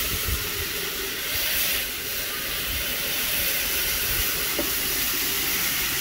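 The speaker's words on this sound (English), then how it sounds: "keep hitting them with that steam" Water steaming and hissing on a hot griddle under a lid with hot dogs, a steady close broadband hiss with a small sharp sputter near the end.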